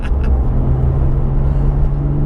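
A Porsche 997.2 GT3 RS with its 3.8-litre flat-six mounted right behind the cabin rumbles at a steady drone, heard close from inside the car with no talk over it.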